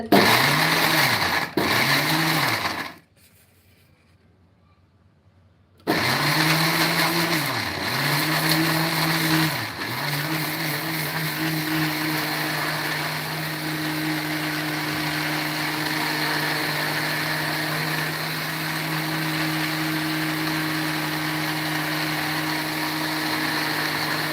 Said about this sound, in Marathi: तर हे बघा, मी मिक्सरला छान लावून घेते.